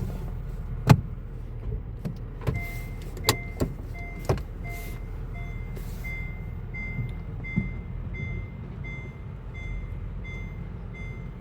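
Honda Fit Hybrid GP5 starting off on a test drive: steady low engine and road rumble throughout with a few sharp clicks and thumps, plus a repeating electronic tone from the car near the start.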